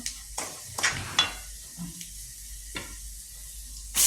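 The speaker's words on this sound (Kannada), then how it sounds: "ಇದನ್ನು ಸಹ ಎಣ್ಣೆಯಲ್ಲಿ ಫ್ರೈ ಮಾಡ್ಕೋಬೇಕು." Roasted moong dal frying in oil for pudina rice, a faint sizzle with a few spoon stirs and clinks against the pan, close and quiet with no talking.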